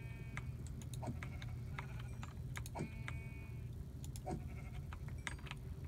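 Short sheep bleats in Minecraft pop up a few times over a steady low game soundtrack, with ticking sounds scattered throughout.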